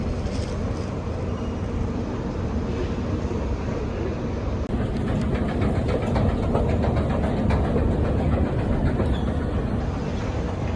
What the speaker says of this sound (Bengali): নিচের দিকে যাচ্ছি, নিচে হলো মেট্রো স্টেশন।